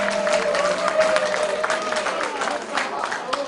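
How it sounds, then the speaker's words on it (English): Classroom applause from students during a group quiz game, irregular clapping mixed with chatter and room noise, moderately loud and loose rather than unified. "Give applause, please."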